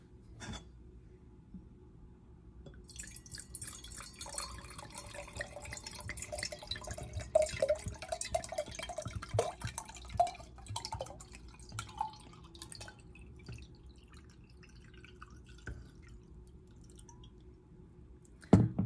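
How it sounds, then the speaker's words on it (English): Wine trickles and drips into a glass in a soft, close pour, with uneven splashes and drips building over several seconds and a quiet liquid gurgle throughout, with no talking. "I will just pour you a nice full glass for you to come back to"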